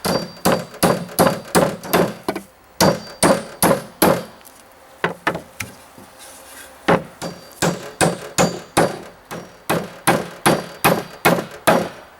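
Steady series of loud, sharp hammer blows driving nails into wooden footing frame boards for a garden shed greenhouse, struck in quick rhythmic bursts with brief pauses between runs, close by with no talking.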